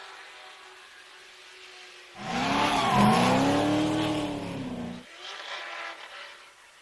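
A race car roars past with a rising and falling engine whine and a brief tire squeal during time attack qualifying, loud for about three seconds over steady background engine noise.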